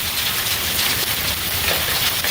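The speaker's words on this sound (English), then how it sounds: "Got some crazy hail going on here." Hail pours down during a thunderstorm, a dense, loud, unbroken hiss and patter of stones hitting surfaces close by, with no talking.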